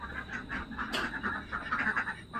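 Domestic ducks on a rural Assamese farm, with a string of soft, nasal quacks repeating in irregular bursts at moderate distance, fairly quiet and with no talk.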